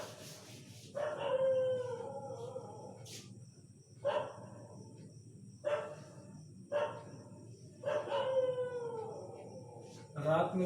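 Dogs howl and bark at night in recurring bursts, some long drawn-out wails and shorter yelps, heard from some distance over a quiet background hum.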